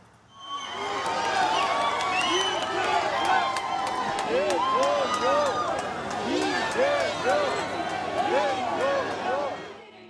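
Crowd of supporters cheering and shouting outside the National Assembly in Yeouido, Seoul, at an election-night rally; a dense, sustained roar of many voices with scattered whistles and clapping, loud and continuous throughout.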